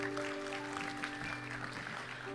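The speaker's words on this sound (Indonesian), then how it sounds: "Yang setuju dengan saya boleh kasih tepuk tangan yang meriah" Applause from a church congregation during a sermon, fairly faint and distant, with steady hum tones running underneath throughout.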